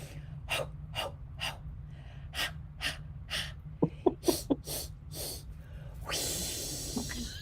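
Sharp, rhythmic breaths repeat in quick bursts, a series of forceful exhales and short huffs, followed by a long steady hiss of air; no talking.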